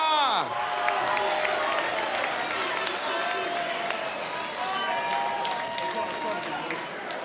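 A boxing arena crowd at a heavyweight bout roars and cheers steadily and loudly for several seconds, with whistles and clapping mixed in and an announcer's voice carrying over the noise.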